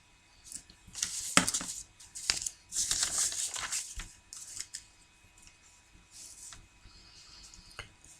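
Pen on paper, written in bursts of scratchy strokes with brief pauses between them and no talking, while inventory figures for demand and ordering cost are set down.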